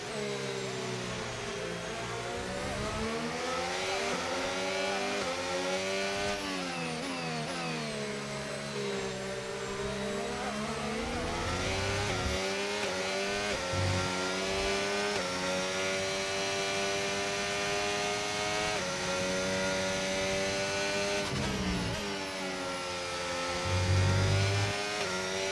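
Formula 1 engines in the F1 25 racing game drone and whine continuously, with pitch sweeping up and down through gear changes as a Ferrari passes, loud and steady with no talk.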